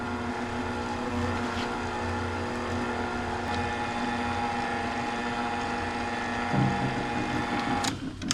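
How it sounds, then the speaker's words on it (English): An electric mixer on its lowest setting whirs steadily while folding peanut butter pie filling, a constant mechanical hum with a short rise in pitch near the end before it stops. "I would put this mixer on one and just let it incorporate very, very smoothly"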